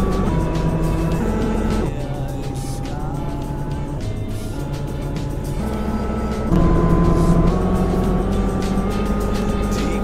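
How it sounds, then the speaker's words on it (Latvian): Mercedes-Benz Citaro O530 city bus driving in Roblox, a loud steady engine drone with shifting tones as it changes gear and speeds up, and no talking over it. "Autobus brauc."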